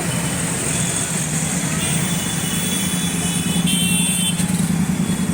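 Steady road traffic at Akashvani Chowk intersection in Ambikapur, a continuous dense rumble of cars, trucks and motorbikes passing close by, loud and unbroken throughout with no clear voices.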